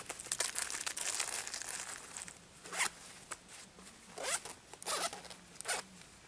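Zipper on a zip-up pouch for knitting needles, several quick rasping pulls close to the microphone, with faint crinkling between them.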